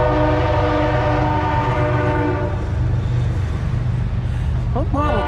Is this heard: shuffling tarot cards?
no